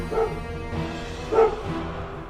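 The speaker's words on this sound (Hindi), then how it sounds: "उस रात मोड़ के पास कुत्ते लगातार एक ही दिशा में भौंकते रहे।" Dogs bark at night near a road bend in a horror cartoon, a couple of short yelps and barks, moderately close, with no talking over them.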